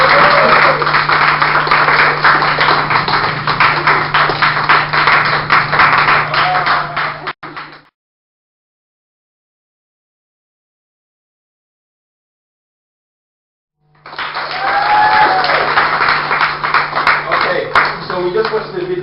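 A youth group audience applauds in a room, the dense clapping mixed with voices over a steady electrical hum; it breaks off into several seconds of silence, then the clapping and voices resume.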